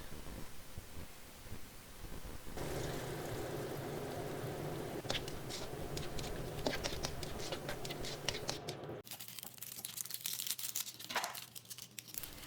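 Pork sautéing in a pan for pork ginamay, a dense crackling sizzle that swells after a few seconds and stays steady, with scattered scrapes and a drop in intensity near the end.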